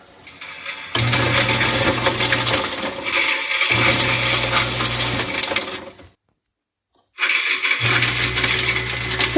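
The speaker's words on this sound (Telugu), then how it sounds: "ఇది ఫుడ్ వేస్ట్ డిస్పోజర్ అంటారు" A loud kitchen sink food waste disposer grinds in three long bursts over a low motor hum, cutting out briefly to silence before starting up again.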